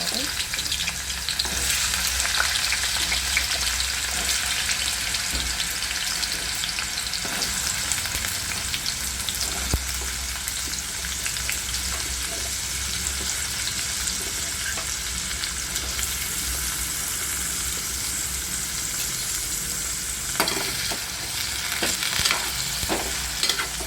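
Whole potatoes fry in hot oil for a matzo-style pea and potato curry, a steady dense sizzle with occasional stirring clinks, close and continuous with no talking.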